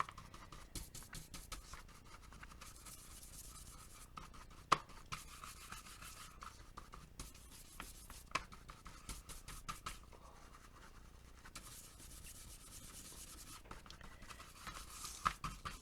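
Ink being dusted from a stamp pad onto paper for a meander book, making soft, steady brushing and rubbing strokes close up, with light scratchy pats scattered throughout and no talking.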